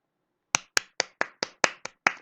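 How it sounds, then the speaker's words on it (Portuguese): Eight sharp, distinct hand claps in a steady rhythm, close and crisp, after a moment of silence, with no voices. "bate palmas"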